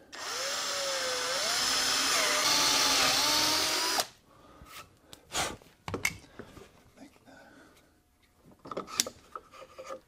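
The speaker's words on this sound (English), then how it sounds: "drill a hole there so I can attach this to the shooting board" A power drill whines steadily as it bores through a wooden shooting board, its pitch wavering under load for about four seconds, followed by scattered knocks and handling clatter.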